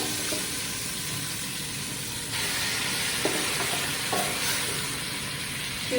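Pork cubes added to a pan of cooked tomatoes for pork pochero sizzle and fry with a steady close hiss, and a few soft stirring knocks come through partway.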